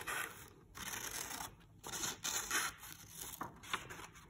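Scissors snip through paper as shapes are cut out, Matisse-style paper cutouts, giving a quiet, close run of crisp cuts and rustles with short pauses between strokes.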